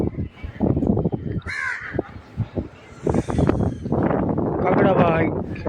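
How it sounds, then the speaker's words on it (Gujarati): A crow caws several times at Kanyakumari railway station, the terminus by the sea, with harsh calls near the mic over wind noise and background murmur, and someone speaks briefly. "કાગડાભાઈ"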